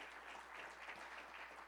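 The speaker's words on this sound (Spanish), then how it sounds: "Le das un aplauso al Señor" A church congregation applauds in praise, a steady, dense wash of clapping at moderate distance with no breaks, filling the whole moment without any voices over it.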